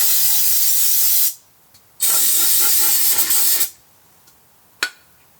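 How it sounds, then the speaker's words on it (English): Carb cleaner sprayed in two long hissing bursts to clear oil buildup from a Lexus IS300 2JZ engine part, loud and close, followed by a sharp brief spritz. "I just used some carb cleaner on both ends just to clean it all out."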